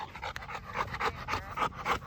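A young pup pants in quick, rhythmic bursts close to the listener, with faint whimpering breaths between pants and no other sounds.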